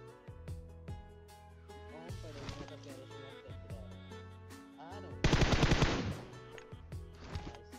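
Gunfire from the mobile video game PUBG Mobile: repeated automatic bursts and single shots over game ambience, with one loud, dense stretch of rapid fire partway through.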